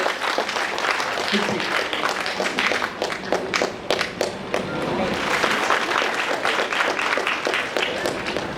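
An audience clapping at a cultural event held by an arts fan group in Mumbai: sustained, loud crowd applause with dense overlapping claps throughout, with a voice speaking over it.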